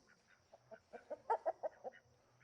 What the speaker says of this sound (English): What's up, chickens?